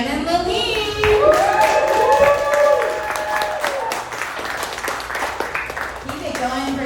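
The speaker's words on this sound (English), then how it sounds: "Put your hands together for Shannon Levine." An audience at a stand-up comedy show in Boca claps and cheers as a comedian is introduced. Crisp, steady applause fills the room over music, and a voice talks over it.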